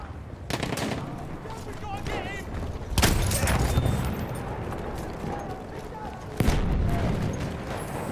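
In the video game Battlefield 1, a grenade explosion and gunfire ring out, with sharp loud booming bursts at intervals over a steady rattle of shots and battle noise, voices shouting underneath.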